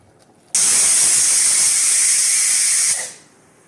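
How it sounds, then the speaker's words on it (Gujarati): A pressure cooker whistles while cooking pulao, one sustained loud hissing steam blast lasting about two and a half seconds, starting abruptly and tapering off, close by with no talk. "તો હવે આપણા પુલાવની સીટી વાગી ગઈ છે."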